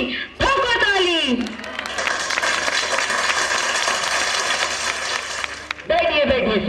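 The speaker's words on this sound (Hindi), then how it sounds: "ठोको ताली" Audience applause at a 2016 school show at Dikshant International School: a dense, steady wash of clapping for several seconds, with voices speaking briefly before it starts and again after it fades.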